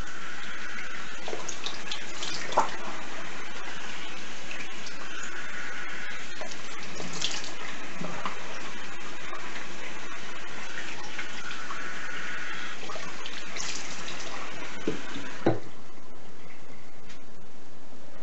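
Cold water runs steadily from a tap for a long stretch during a shave rinse, a constant hiss with a few small clinks and splashes, then stops near the end.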